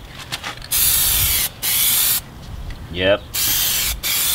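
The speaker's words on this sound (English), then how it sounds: "You always want to spray from the outside coming in." A spray gun lays a light coat of paint onto a car in a cheap modification job, with about five loud, close bursts of hissing spray separated by short pauses and a brief spoken word.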